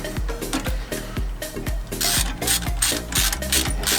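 A socket ratchet clicks steadily in quick repeated strokes while tightening 5/8 bolts on an auto coupler, close and clear with no talk.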